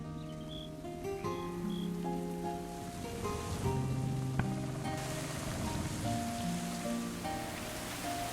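Steady rain in the medieval colony-building game Going Medieval, a constant soft patter that stays even throughout, with light tonal game sounds layered over it and no voices.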